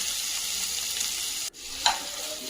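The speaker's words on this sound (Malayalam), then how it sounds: "അതിലേക്ക് ഏലക്ക, ഗ്രാമ്പു, കറുകാപ്പട്ട, കുറച്ച് ചെറിയ ജീരകമിട്ട് നന്നായിട്ട് വഴറ്റി കൊടുക്കുക" Whole cardamom, cloves, cinnamon and cumin sizzle in hot coconut oil and ghee, a close steady hiss that cuts out sharply for a moment, then resumes with a brief stirring clatter.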